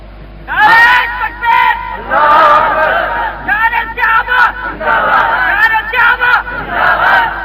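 A large crowd gathered for a religious sermon chants slogans in loud rhythmic bursts, many voices shouting together in repeated phrases with short pauses between them, close and dominant.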